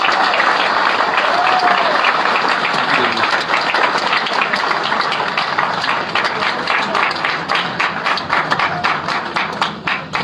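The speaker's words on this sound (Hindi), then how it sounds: "कम से कम एक जोरदार ताली तो बजती है" An audience at a seminar breaks into loud, sustained applause, dense clapping that carries on for about ten seconds, gradually thinning into more distinct individual claps toward the end.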